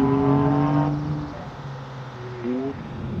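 Alfa Romeo Giulia Quadrifoglio engine pulling hard from low revs, a loud rising harmonic drone that climbs steadily, then drops and surges again, close and continuous.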